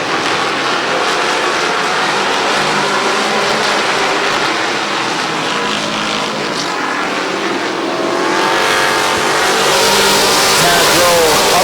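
Race cars at Midvale Speedway during a fall classic race roar continuously at close range, with engines droning and swelling louder toward the end while a voice talks over the racing.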